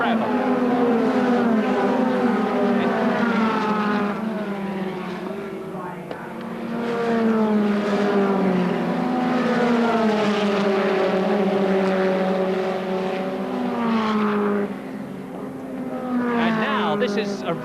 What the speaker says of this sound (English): Farby carving his way through the field, and that's it at Paddock Bend